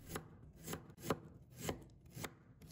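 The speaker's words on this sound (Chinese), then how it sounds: "再准备1块去皮生姜，把它切薄片" A knife cuts peeled ginger into thin slices on a cutting board, six evenly spaced crisp chops at a relaxed pace, close and quiet with no talk.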